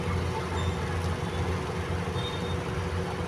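A low, continuous rumble of a metro train rolling past, steady throughout with faint mechanical whine above it.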